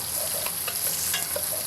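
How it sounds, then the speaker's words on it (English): Onions frying in a pot alongside beef short ribs give off a steady, close sizzle, with occasional light stirring clicks and scrapes over the hiss. "We got nice color on the onions."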